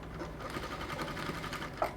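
Sewing machine stitching a half-inch seam on a standing-collar bubu dress, a steady close whirring run of rapid needle strokes with one brief louder knock near the end.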